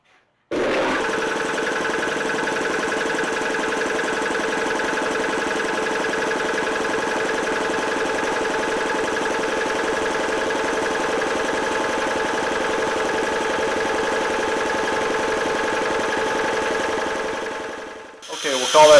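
A rebuilt Saylor Beall air compressor starts up after the breaker is flipped, running steadily with a loud, even mechanical drone and rhythmic pumping for about seventeen seconds before winding down near the end.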